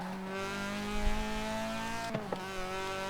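A Mazda RX-7's rotary engine drones at a steady, high-pitched hum in Forza Horizon 4, with a brief pitch dip and a couple of quick mechanical clicks near the end.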